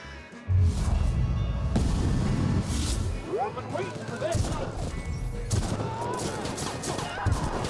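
Rifle gunfire from The Outer Worlds, a sci-fi shooter, with repeated loud shots and bursts cracking over a constant din of game combat, while a player talks throughout.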